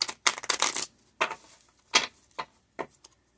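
A regular deck of playing cards being shuffled by hand, heard as a run of quick papery riffling bursts followed by several shorter, softer flicks, close up and quiet with no talking.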